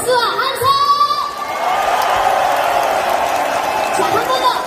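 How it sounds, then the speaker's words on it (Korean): A live concert crowd of a Mistrot 2 singer's show bursts into loud cheering, shouts and clapping, with some high shrieks and whoops over a sustained roar that holds steady for several seconds. "재밌게 즐겨주신 분들 박수와 함성."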